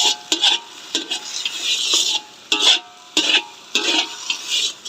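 Pad Thai noodles are stir-fried and swept around a pan, giving repeated bursts of scraping and tossing with soft sizzling between strokes in an uneven rhythm, close and fairly loud.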